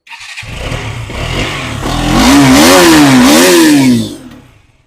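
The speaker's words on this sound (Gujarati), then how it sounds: "એન્જિન ગાડીનું એકદમ સ્મૂથ છે એ પણ ચાલુ કરીને તમને બતાવી દઈશ" A motorcycle engine starts, revs up and down a couple of times with a rising whine, then idles and cuts off, close by.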